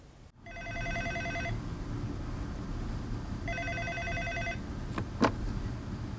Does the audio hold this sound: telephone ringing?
yes